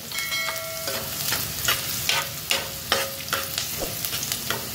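Onions sizzle in hot oil while a spoon stirs and scrapes the pan in regular strokes, close by, tempering for a horse gram curry.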